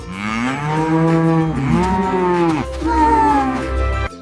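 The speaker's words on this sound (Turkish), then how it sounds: "This is a cow." A cow moos in one long, loud, drawn-out call with rising and falling pitch, close to the listener, with no other sounds around it.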